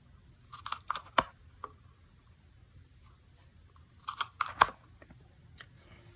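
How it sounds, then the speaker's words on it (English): Small craft hole punch cutting circles from sticker paper, two close bursts of sharp clicks and crunches a few seconds apart in a quiet room. "I'm going to use the smaller one and just punch out a couple of circles from the sticker paper."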